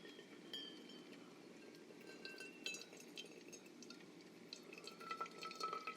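Just-boiled water pours from a metal kettle in a faint, close trickle with light drips and a few small glassy clinks, steady throughout without speech.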